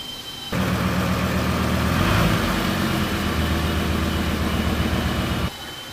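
A VW T4 van's engine rumbles steadily as the van drives into a workshop, a loud, close low drone that starts abruptly, holds for about five seconds with a slight swell midway, then cuts off.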